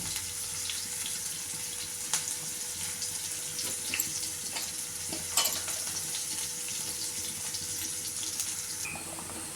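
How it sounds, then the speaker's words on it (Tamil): A Tamil dried fish curry (karuvadu kuzhambu) boils in a pot, giving a steady close bubbling and hissing simmer. Small pops and splutters surface now and then, with no voices. "குழம்பு நல்லா கொதிச்சிருச்சு"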